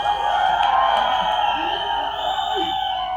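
Large crowd at a Bollywood film trailer launch for Deva, cheering and whooping loudly and continuously, a dense roar with scattered shouts and voices throughout.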